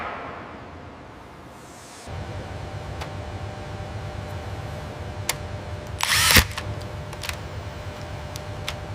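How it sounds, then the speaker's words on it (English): A wrench tightens a connection on a tunnel boring machine shield: sharp mechanical ticks and one brief loud burst of grinding rattle stand out over a steady low machinery hum. "Applying the wrench now."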